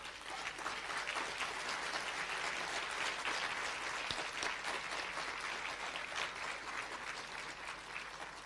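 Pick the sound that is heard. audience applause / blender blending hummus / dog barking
audience applause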